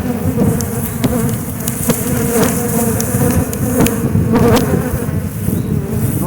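Dense, steady buzzing of many honey bees swarming close by, a continuous droning hum with occasional sharper passes of individual bees.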